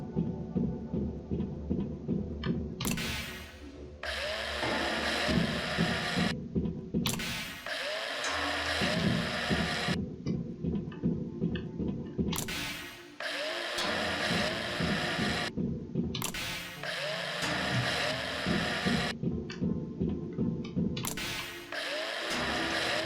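A mining drill in the space survival game Breathedge whirs in repeated long bursts with short pauses between, loud and steady, with no talk over it.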